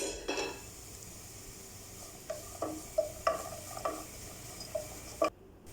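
Chopped cabbage and capsicum being stirred in a pan for an oats dish: a low sizzle under a series of light spoon taps and scrapes against the pan at irregular intervals, close and fairly quiet, with no speech.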